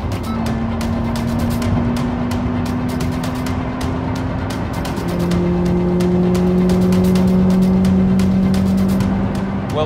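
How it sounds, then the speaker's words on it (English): An old, cheap car, one of a pair of $2000 cars, accelerates hard on a de-restricted German autobahn, its engine note rising through the gears with a shift midway, loud and close with a clicking indicator over the engine and wind noise. "see if our tired old cars were able to hit the magic 150 mile an hour"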